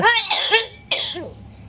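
A person gives a couple of sharp, loud coughs at close range, with a brief pause between the bursts and a quieter cough-like sound trailing after.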